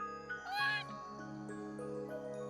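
A cat meows in the video game Trails of Cold Steel, one clear rising and falling mew near the start over sustained background game music.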